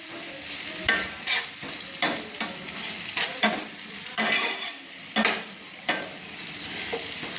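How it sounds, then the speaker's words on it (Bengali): Onions fry in a pan for chirer polao as a spoon stirs them, sharp scraping strokes recurring every second or so over a constant sizzle, close and loud. "তো আমি এইভাবে পেঁয়াজটা ভেজে নিচ্ছি।"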